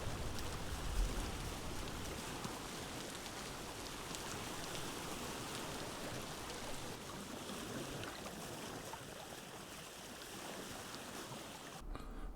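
Rain and storm in the video game Vintage Story during a sea crossing, heard as a faint, steady wash of rainfall and wind with no voices.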